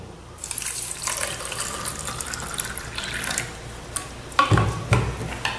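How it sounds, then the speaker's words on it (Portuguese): Tap water streams from a faucet into a drinking glass, making a hissing, splashing pour that rises and falls, followed by a few sharper splashes and clinks near the end. "a gente vai colocar em um deles a água da torneira"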